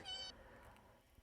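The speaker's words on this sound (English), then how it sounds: "Oh, wait. That's just a cat." Thumbkin, a pet cat, gives a single short, high meow, fairly faint in a quiet room, then stays silent.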